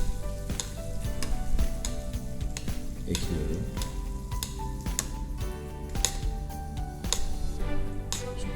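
Ribeye steak sizzles hard in hot oil while a spoon repeatedly bastes it, bringing loud continuous frying crackle punctuated by regular sharp clicks of the spoon against the pan.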